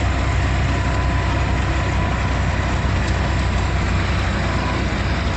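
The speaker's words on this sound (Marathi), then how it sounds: "आता चालू आहे गाडी" A goods truck engine idling close by, a loud steady low rumble with a constant drone that holds unchanged from start to finish.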